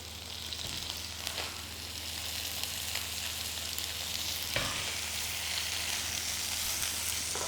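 A seasoned ling fish fillet frying in a pan, making a continuous even sizzle with occasional soft crackles, close by under a low steady hum, with no voices.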